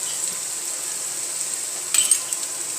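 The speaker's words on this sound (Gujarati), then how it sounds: "એમાં ચટણી નાખવાની." Chutney added to a hot pan and stirred, a steady bright sizzle of frying throughout, with a brief clatter of a spoon against the pan near the end, close and fairly loud.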